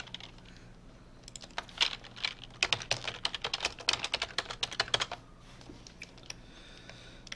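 Fingers type a forum post on a computer keyboard in a quick, uneven run of close clicks and taps, bunched in the middle and thinning toward the end, with no talking.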